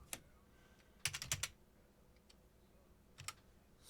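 A terminal command is typed on a computer keyboard in short, quick bursts of crisp key clicks separated by pauses, close and fairly quiet, with no voices.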